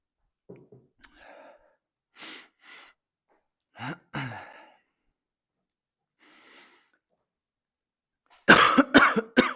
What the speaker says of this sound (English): Cannot get rid of this stupid cough.